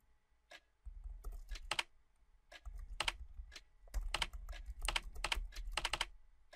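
Clicky keys tap out a password on an old laptop in a horror video game, in irregular bursts of individual keystrokes over a soft low hum, close and fairly quiet, with no voices.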